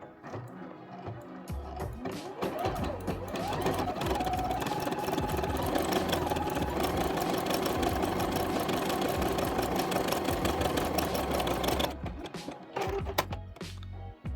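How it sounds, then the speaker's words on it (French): Domestic sewing machine running a three-step zigzag overcast stitch along a fabric edge, a steady, loud mechanical whir that runs continuously for about twelve seconds before stopping, with a few clicks at the end. "j'ai mis ma machine au programme 4 et je vais pouvoir commencer mon point"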